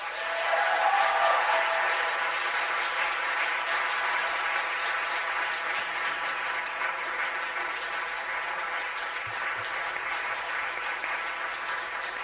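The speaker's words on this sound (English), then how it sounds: "I think we should hear one more round of applause for Ms. Mangaluso and the Petway team" Sustained applause from the audience at a school board of education meeting, a dense, steady wash of many hands clapping throughout, fading slightly near the end, with no speech over it.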